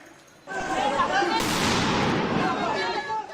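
Police tear gas grenades fired in the streets of Paris during a chase of migrants, activists and journalists: a sudden loud burst followed by a sustained noisy roar of hissing and crowd noise, with voices mixed in.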